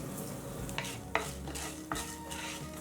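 Urad dal with coriander seeds and cumin frying in a pan for ginger chutney, a steady close sizzle broken by a few sharp spoon scrapes and stirring clicks, with no talking.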